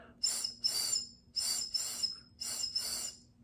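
Six short, high whistled chirps in pairs, a voice imitating bird calls, evenly spaced and fairly soft with no talking.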